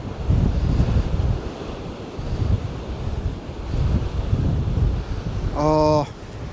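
Strong wind buffeting a microphone on a clifftop near abandoned tin mines, a continuous loud roar with rising and falling gusts and surf-like rumble, ending with a brief tonal whine.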